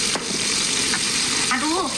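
Battered, floured chicken deep-frying in hot oil makes a loud, continuous close sizzle with brief higher squeaks near the end, and nobody talks.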